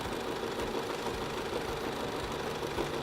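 Sewing machine stitching continuously while free motion quilting with a ruler, a steady close mechanical hum and rapid needle chatter throughout, no voices.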